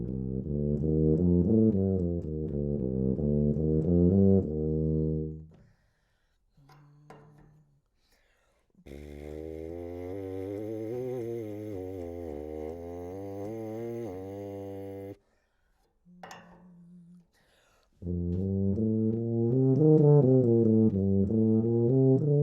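Brass notes alternating with short lip buzzes on a BERP mouthpiece attachment, each passage of several seconds of sustained, wavering, harmonic-rich tone separated by brief, quieter buzzed pitches, loud and close with no talking.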